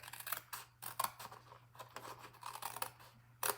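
Scissors snip through paper while a Christmas tree treat box ornament is cut out, a series of close, crisp irregular cuts and rustles at a quiet level with no talking.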